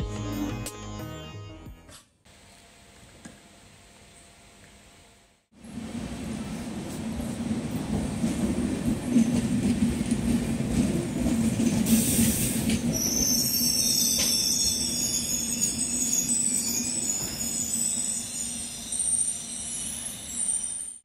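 After a quiet pause, a passenger train from Howrah pulls into Sahibganj station in the early morning, rolling loudly with continuous grinding rumble and high, piercing wheel squeal that builds near the end.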